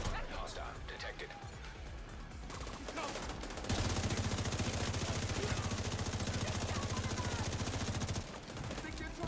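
Rapid automatic gunfire fills a shooter video game, The Division 2, starting with scattered shots and building to a loud, dense burst lasting several seconds before easing off, with a player talking over it.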